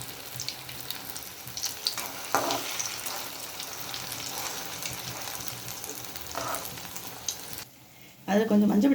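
Susiyam sweets deep-frying in hot oil, a steady close bubbling sizzle with brief louder surges, a short quiet gap near the end and then a burst of fresh sizzling.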